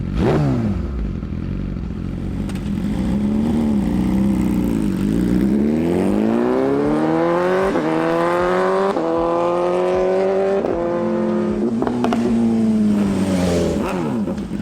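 A Yamaha R1M sport motorcycle engine on a road ride, loud and close, revving up and shifting through gears with rising and falling whine, steady wind and road noise underneath.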